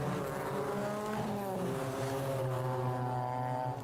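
Touring race cars at Brands Hatch Indy rev past the pits behind the safety car in a TCR UK race, a steady loud blend of engine notes with harmonics rising and falling throughout.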